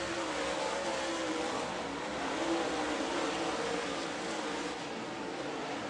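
Race cars on the final lap of a heat race, heard as a steady, droning engine roar from a distance with no break throughout.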